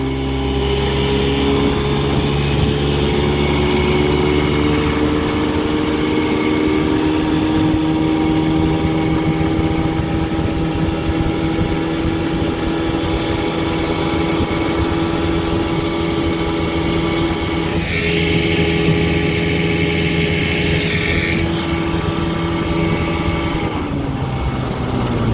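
A 1959 Evinrude Golden Jubilee Sportwin 10hp outboard motor runs steadily and loudly up close, a buzzing two-stroke drone with a slight rattle from the hood, shifting pitch briefly near the end.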